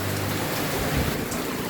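Heavy rain pours down steadily outdoors in a dense, loud, unbroken hiss with no pauses and no voices.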